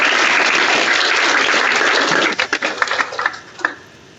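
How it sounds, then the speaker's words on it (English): Audience applause after a federal finance minister's remarks at a pre-budget consultation, a dense steady clapping that thins into a few scattered claps before stopping. "Was there someone who told you to clap?"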